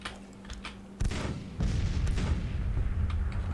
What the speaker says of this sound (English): Look, we have artillery here.